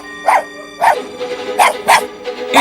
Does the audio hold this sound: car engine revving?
no